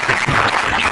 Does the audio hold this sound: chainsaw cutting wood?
no